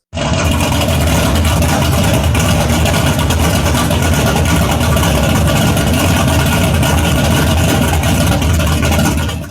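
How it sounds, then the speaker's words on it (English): An old muscle car's V8 engine idles roughly with a lumpy, uneven beat from heavy camshaft overlap, loud and close, running steadily without pause. "If you've ever heard an old muscle car coming into a car show and sounding like this,"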